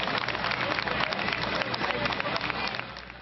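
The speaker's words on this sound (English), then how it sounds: "clapping and cheering through the crowd" A crowd claps and cheers at the rescue of a 2-year-old girl pulled from a cistern, a dense, bright patter of many hands with crowd noise, steady and fairly loud before easing slightly toward the end.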